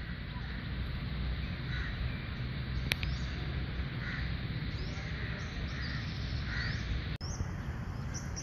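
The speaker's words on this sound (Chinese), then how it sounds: "最大声的还是这种乌鸦的声音。" Crows caw repeatedly in a green park in Malacca, Malaysia, a series of hoarse calls, some fairly near, over a dense background of ambient noise, with a couple of sharp clicks.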